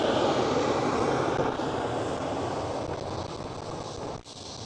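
KLM Cityhopper Embraer E190 regional jet at Amsterdam Schiphol, a steady loud broadband engine roar that holds for several seconds then eases slightly, with light wind buffeting and no talk.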